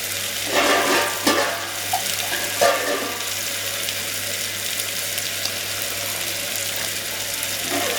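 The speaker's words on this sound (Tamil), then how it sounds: "இப்போ தண்ணி ஊற்ற போகிறோம்." Water poured from a tumbler into a simmering tamarind vegetable gravy (puli kuzhambu), a close gushing splash in a few bursts early on, then settling into a steady bubbling hiss.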